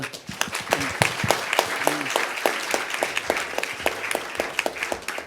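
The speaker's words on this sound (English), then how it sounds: "please join me thanking for them for their sharing information with a big applause" Audience at an ASEAN–Korea sustainable innovation conference session breaking into sustained applause, dense rapid clapping from many hands in a hall, steady and lively throughout.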